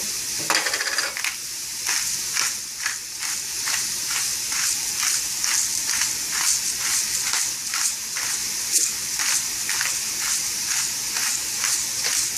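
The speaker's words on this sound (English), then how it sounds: "And we're going to saute them for about 10 minutes." Sliced mushrooms sauté in oil in a frying pan with salt and pepper for a Polish zapiekanka, giving a steady, close sizzle with regular soft stirring scrapes throughout and no talking.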